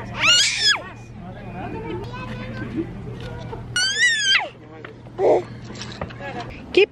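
A young girl lets out high, piercing screams in several short bursts on an exciting day out with her family, loud and close, mixed with other excited voices and people talking.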